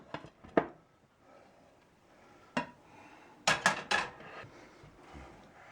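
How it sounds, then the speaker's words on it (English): An apple cake gets flipped in a pan, giving a few sharp metallic clanks and scrapes, with a cluster of quick knocks near the end and quiet gaps between. "now let's see if we can flip it over again."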